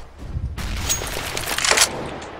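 A grenade blast in the tactical shooter CS:GO, a broad burst erupting after a low rumble and holding loud with crackling debris before easing off, surrounded by the noise of gunfire.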